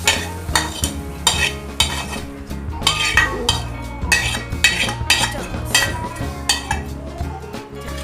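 A spoon stirs spiced potato samosa filling in a bowl, giving repeated scraping and clinking strokes at a steady rhythm, close and fairly loud, with no talking.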